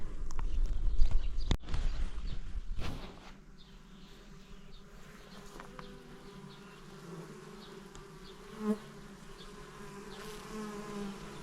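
Bees buzz steadily around a village beehive just after its lid is set back on, a continuous close insect drone with a louder rustling thump at the start and a brief knock later.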